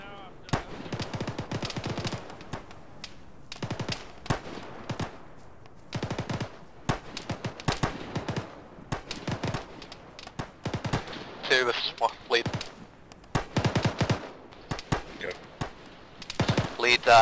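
Gunfire in the Arma military video game: sharp, scattered shots and short automatic bursts crack repeatedly through a tense firefight, some near and some farther off, with radio chatter and voices talking between them.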